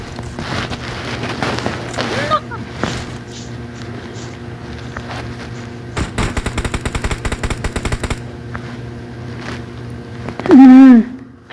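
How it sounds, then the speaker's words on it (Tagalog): Gunfire in the video game PUBG Mobile: sharp single shots and rapid bursts of automatic fire over a steady in-game hum, with a player talking over it and a loud burst near the end. "Kitty, may bumabaril sa akin, Kitty."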